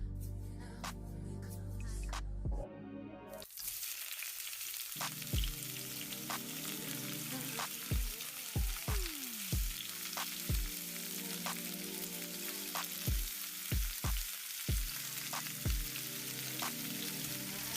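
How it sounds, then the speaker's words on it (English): Garlic and onion hit hot oil with a sudden loud hiss that settles into a steady crackling sizzle, dotted with frequent sharp pops and spatters, close by and with no voices. "then we're gonna fry our garlic first, followed by our onion"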